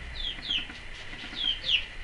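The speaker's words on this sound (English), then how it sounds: "I'm sure you can hear the peeping in the background." Baby chicks peep in the background in a soft run of about four high, rising chirps, fairly faint against a quiet room.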